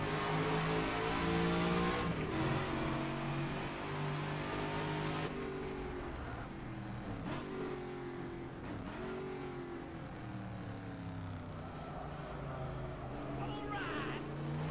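A V8 race car engine in the video game rFactor 2 at Longford roars and revs through repeated gear shifts, pitch climbing and dropping, with faint talk underneath and occasional tire noise.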